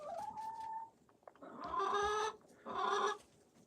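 Rhode Island Red hens preparing to lay eggs give a few soft, close clucks and drawn-out calls in quick bursts, fairly quiet against a still background.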